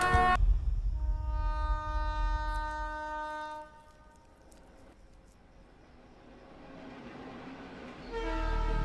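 A train in a movie scene sounds a long, steady, multi-tone horn over the heavy rumble of passing wagons, then the horn fades. The rumble carries on before a loud, harmonic horn returns at the end.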